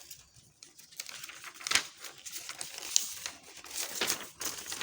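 Paper being handled while a basic skirt pattern is folded closed or cut out, giving soft crinkling and rustling with a few sharper crackles, close by and fairly quiet, with no talking.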